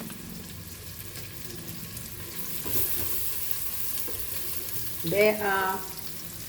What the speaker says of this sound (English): bhindi is also fried nicely, if you can see.